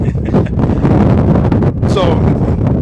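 Strong wind buffets the microphone at an outdoor football field, producing a continuous loud roar with gusty surges, and a voice is faintly present beneath it.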